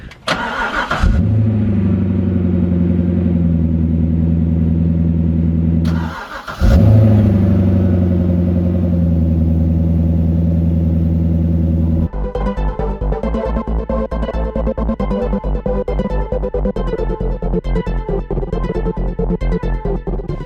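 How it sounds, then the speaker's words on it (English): A Chevrolet C6 Corvette Grand Sport with its LS V8 fires up from cold, settles into a loud steady idle, briefly cuts out and restarts, then settles into a rougher, pulsing idle with a fast ragged rhythm, all close and alone with no talk. "I want to get a cold start, because I haven't actually heard a true cold start at this point."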